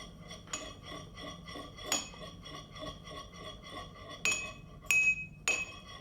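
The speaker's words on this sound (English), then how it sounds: "And then I'm just mixing everything in so it's well mixed and has a good consistency." Light clinks and taps of a utensil against a glass container while lavender body balm ingredients are stirred together, quiet and close, with a few sharper, brighter chimes near the end and no talking.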